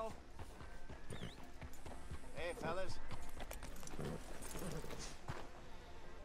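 A horse galloping in the Red Dead Redemption 2 video game, with steady clip-clop hoofbeats running under continuous Italian-speaking commentary and game sounds.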